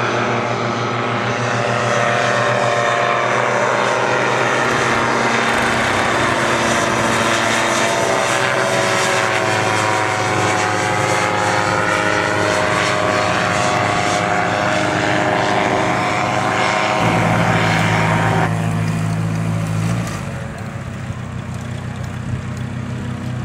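A gyroplane powered by a small two-stroke engine flies past at Wrens, Georgia, its loud buzzing propeller drone rising and falling in pitch as it nears and recedes, continuous throughout with no talk.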